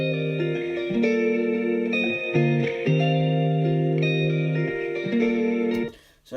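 Moody minor-key chords from a song arrangement built in Logic Pro, a steady sustained keyboard-like pad with shifting chord changes drenched in reverb and chorus, running continuously before cutting off near the end.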